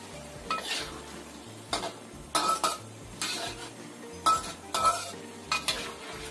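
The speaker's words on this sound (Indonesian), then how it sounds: "Kita tambahkan daun bawangnya. Aduk-aduk lagi." Tofu with green onions in a thickened sauce is stirred in a pan, a spatula scraping the metal in about eight distinct, uneven strokes over a low simmer, with no talking.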